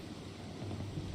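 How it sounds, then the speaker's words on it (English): A thunderstorm with rain heard while sailing in the Mount and Blade War Sails video game, a faint steady wash of rain and low rumble lasting only a moment, with no voices. "not a smart idea to sail through the storm."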